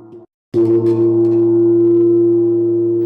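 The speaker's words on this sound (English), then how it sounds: "The sound of a gong lingers, offering a long, elusive echo." A single deep metallic strike of a traditional Korean gong rings out after a short silence, its tone sustaining steadily and lingering without fading for several seconds.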